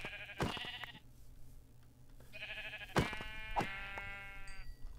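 Two drawn-out video game sheep bleats with sharp clicks and thuds between them, over a low steady hum, fairly quiet and close.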